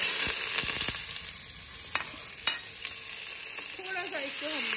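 Half a kilo of mutton sizzles and fries in a karahi, a steady hissing crackle with scraping stirs and clinks of a utensil, and a voice briefly heard near the end.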